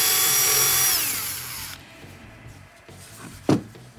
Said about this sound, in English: Quarter inch drill bit. And it can go all the way through.